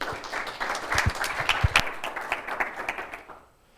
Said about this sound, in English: give a round of applause for Pavel